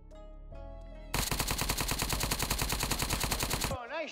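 Rapid automatic gunfire in the online survival shooter Apocalypse Rising 2, a loud, steady burst of dozens of closely spaced shots lasting nearly three seconds, preceded by quieter game sounds and followed by a short electronic tone.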